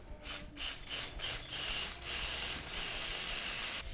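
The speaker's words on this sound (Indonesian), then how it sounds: "Yang bagian atas ini kita ambil si brake cleaner ini, kita masukin ke lubangnya." Brake cleaner sprayed into the bore of a motorcycle brake caliper during a brake overhaul, heard as a series of short hissing bursts followed by a longer sustained spray, close and fairly loud, no talk.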